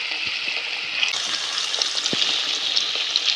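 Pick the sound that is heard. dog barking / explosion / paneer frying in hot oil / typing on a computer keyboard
paneer frying in hot oil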